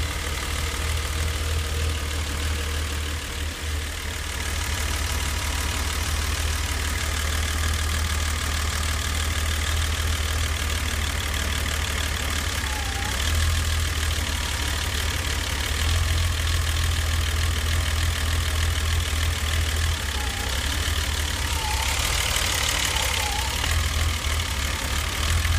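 A BMW E34 with an M20 2.0-litre engine idles after a camshaft replacement, giving a steady, close mechanical hum with slight wavering in the low rumble. No one speaks.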